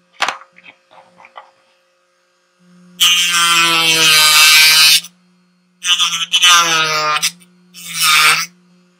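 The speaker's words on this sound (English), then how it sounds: "we'll use the sandpaper to take down all the burrs." Burrs on a costume armor piece are worked down with what sounds like a power tool, in three loud, close, high grinding bursts of a few seconds each, after a few faint clicks.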